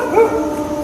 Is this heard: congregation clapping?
no